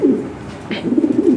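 A red-beaked, red-eyed pigeon pair coos in low, soft, repeated throaty notes at close range, with a brief faint higher sound partway through.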